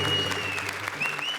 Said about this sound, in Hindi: एकांकी शुरू, जोरदार तालियां।